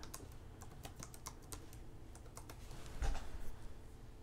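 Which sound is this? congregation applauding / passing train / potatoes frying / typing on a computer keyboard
typing on a computer keyboard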